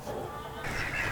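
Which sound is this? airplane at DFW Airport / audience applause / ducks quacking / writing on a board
ducks quacking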